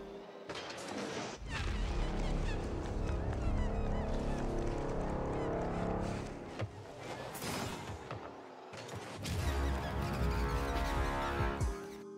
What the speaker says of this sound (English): you'll get access to a unique Batman goal explosion